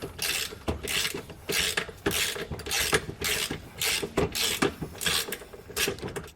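A ratchet wrench loosens the equalizer center bolt on the leaf spring suspension of a 2022 Jayco Eagle trailer during a Roadmaster Comfort Ride install, giving close, loud bursts of rapid clicking in a steady back-and-forth rhythm.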